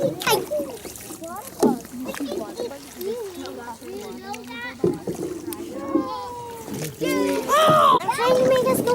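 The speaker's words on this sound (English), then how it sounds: "let's keep paddling" Children paddle a canoe on a lake, paddles splashing and dripping in irregular strokes while young voices chatter and call out close by throughout.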